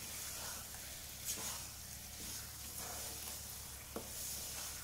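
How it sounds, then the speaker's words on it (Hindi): Moong dal halwa sizzles gently in ghee in a pan over a low flame, a steady soft frying hiss with occasional faint stirring scrapes and no talking. "ऐसे धीमी धीमी आंच पे ये चलती रहेगी, घी पूरा छोड़ देगा ये आपका।"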